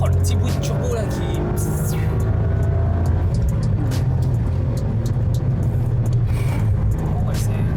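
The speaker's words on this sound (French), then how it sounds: "Oh, le petit bruit de turbo là qui..." Toyota GR Yaris accelerating from low speed, its engine rumbling steadily with a faint turbo whistle under the road noise, recorded from inside the car while people talk over it.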